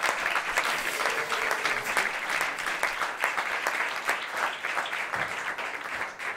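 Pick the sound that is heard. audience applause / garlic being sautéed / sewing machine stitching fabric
audience applause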